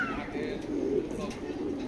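A male Kitel-line pigeon gives a soft, low coo close by, with faint background noise and a brief higher whistle at the start.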